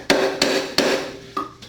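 A mortising chisel tapped with a mallet to score layout lines in wood on a Roubo workbench undercarriage: three sharp, evenly spaced knocks, then two lighter taps, close and clear with nothing else heard.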